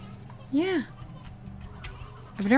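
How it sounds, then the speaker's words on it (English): Elder hen in the video game Slime Rancher giving two short clucking calls, one near the start and another at the end, with game ambience between them. "I've never gotten an elder hen before."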